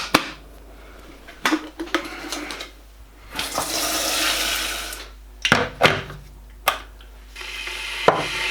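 A freshly descaled electric kettle being refilled with water from a kitchen tap, bursts of running water with clunks and pauses between them, close and fairly loud.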